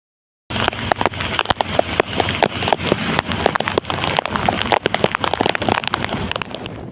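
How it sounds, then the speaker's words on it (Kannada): Heavy rain begins abruptly and keeps pattering on a hard surface, dense and close, with sharper drips and splashes standing out throughout. "ಬೈಲೂರಿಗೆ ತಲುಪುವಾಗ ಅಲ್ಲಿ ಸ್ವಲ್ಪ ಮಳೆ ಕಮ್ಮಿ ಆಗಿತ್ತು"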